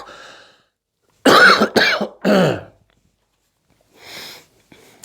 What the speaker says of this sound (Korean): 척 앉아서 했더니 기침 나오고 그러네요.